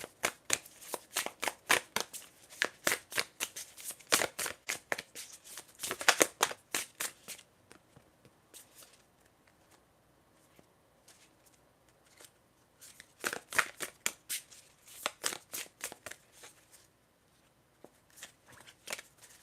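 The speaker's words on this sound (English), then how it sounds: "I'm going to shuffle to get more information for this question for you" Tarot cards are shuffled close by in bursts of rapid riffling flutters, separated by quieter pauses, with no talking.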